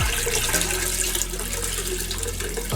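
Water leaking into a heeling sailboat, a loud, continuous rush and slosh of water close by with no voices.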